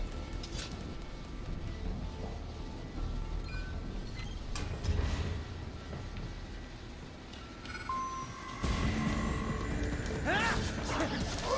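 A freight elevator ride in the game Metal Gear Rising: Revengeance, steady mechanical rumble and grinding with scattered metallic clanks and thuds, growing louder near the end, with no clear talk.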